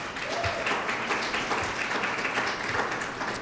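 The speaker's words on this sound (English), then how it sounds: "Let's give her a round of applause for that." An audience at a Women of Distinction awards event applauds in a continuous, fairly soft wash of clapping, heard from a distance with a faint low thump or two and no speech.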